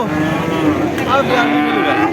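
A cow moos loudly and close at a cattle market for lean, bony dairy cows in Satmile, Jessore, one long drawn-out low call that fills the whole moment with a steady harmonic tone.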